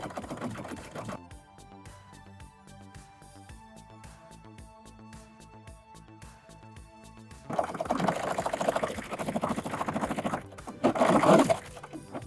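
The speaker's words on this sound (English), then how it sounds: "We're going to serge all these edges so nothing frays while we're wearing it or washing it." A serger overlocks the edges of delicate fabric for a DIY nightgown made from a bra, running in long steady motor-driven bursts with rapid stitching, loud and close after a quieter stretch of soft ticking.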